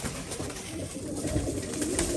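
Chinese pigeons at a pigeon loft coo in soft, repeated low calls close by, over a steady background hum.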